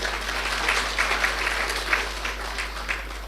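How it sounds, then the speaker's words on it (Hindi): An audience at a spiritual class claps for itself, steady crowd applause that keeps going evenly throughout, dense and close without a break. "ताली बजाओ अपने लिए"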